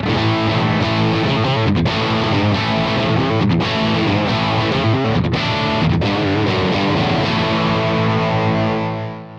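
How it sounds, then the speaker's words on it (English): Heavy, thick distorted electric guitar riffing through an amp simulator set to full stack cabinet emulation, a full, wide tone, loud and continuous with brief pauses between phrases, no voices. "on the bottom, you'll get the full stack sound."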